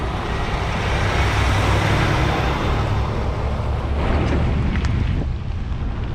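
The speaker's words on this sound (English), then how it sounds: "We got the milk truck. Wow, we picked the right time. We get to see the milk truck." A milk truck drives past on a rural private road near Gainesville, Texas, as a low vehicle rumble buried under constant, heavy wind buffeting from a moving bicycle.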